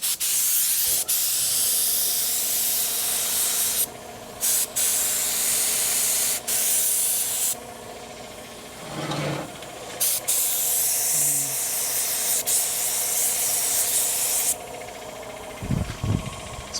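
Spray gun painting a metal gas tank for a 1965 El Camino build, sending out long, steady bursts of loud, close hiss, broken by short pauses between passes.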